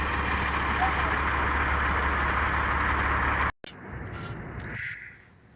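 A diesel engine that has just been started idles with a steady, dense rumble. The sound cuts off abruptly partway through, then a quieter, thinner engine hum follows and fades toward the end.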